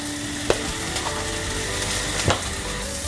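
Tomatoes sauté in a pan for mushroom masala, giving a steady sizzle with a couple of sharp clicks of a spoon or spatula against the pan; close, fairly loud, no talking.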